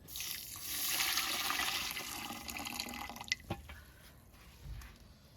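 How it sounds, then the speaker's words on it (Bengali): Hot water is poured onto sugar to soak it, a steady close splashing stream that tapers off, followed by a few faint clinks and drips. "আমি এই গরম জলটা চিনিটা ভিজিয়ে দেবো"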